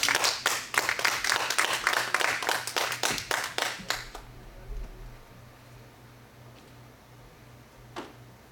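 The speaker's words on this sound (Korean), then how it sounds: "박수로 환영해 드립니다" An audience claps in welcome for a guest speaker at a church talk, a steady burst of hand claps lasting about four seconds and then dropping to a quiet room with a faint tap later.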